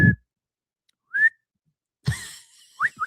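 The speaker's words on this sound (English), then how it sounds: "You breathe out and in when you whistle." A person on a talk show tries to whistle, producing a few short, breathy rising whistle notes separated by gaps, with bursts of breath or laughter between them.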